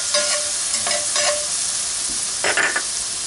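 Apple cider vinegar poured into a hot chicken skillet to deglaze, giving a steady loud sizzle with bursts of hissing and scraping as the pan is stirred, no voices.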